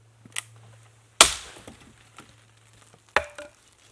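Firewood sticks are snapped by hand at a bushcraft camp in the rain: two loud, sharp cracks stand out close by, with a few smaller splintering snaps and crackles between them.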